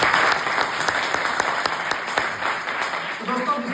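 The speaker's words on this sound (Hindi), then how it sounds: "मैं चाहूंगा जोरदार तालियां।" Audience applause at a speech event in Lucknow, a steady dense wash of clapping from a hall crowd that holds strong throughout, with a voice or two faintly audible toward the end.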